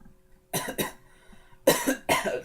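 Two pairs of sharp coughs from one person, close to the microphone, separated by a short quiet pause.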